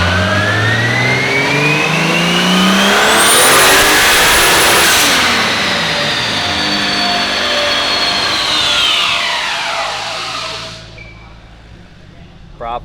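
A tuned car on a dyno is revved hard through a long pull, the engine note climbing and roaring loud and close, then dropping away as the run winds down. A short sound is heard near the end.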